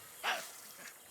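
One short, sharp Tasmanian devil bark, faint and slightly distant, standing out briefly against a quiet background hiss.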